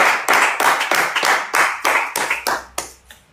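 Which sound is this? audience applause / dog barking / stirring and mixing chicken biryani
audience applause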